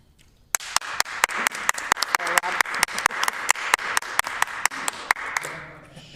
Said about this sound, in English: thank you for the warm applause this morning